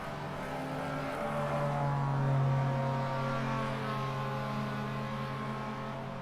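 Racing cars leave pit lane in Rumble Racing, a steady layered engine drone that swells briefly, then holds an even roar with no voices.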